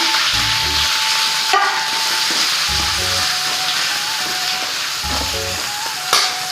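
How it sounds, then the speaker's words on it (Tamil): Onion and capsicum fry with garlic in a pan for idli manchurian, a steady close sizzle broken by a few bursts of stirring. "இப்போ நம்ம வெங்காயம் குடமிளகா சேர்த்துக்கலாங்க"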